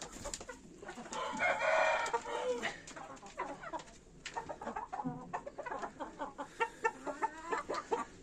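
Breeding hens cluck in a busy chorus close by while a rooster crows a long call early on, followed by repeated short clucks and squawks from the flock.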